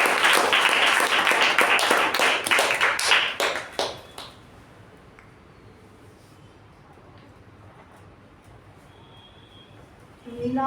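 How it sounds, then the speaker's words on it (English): A Toastmasters meeting audience gives a round of applause, loud dense clapping for about four seconds that thins into scattered final claps, then near quiet room tone before a voice resumes at the end. "a thunderous round of applause for both the speaker and the evaluator"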